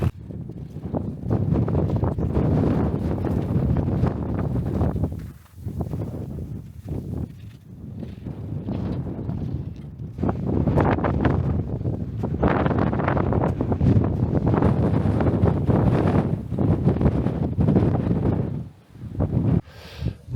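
Strong wind gusts buffet the microphone on a mountain ridge in the Slovenian Alps near Belska planina, a loud roaring rush that surges and briefly drops several times throughout.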